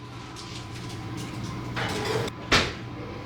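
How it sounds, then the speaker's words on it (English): A kitchen oven door swings open with a soft creak and a louder clunk as it drops, heard close in a quiet room over a steady low hum, with no talking. "I'm gonna open the oven now."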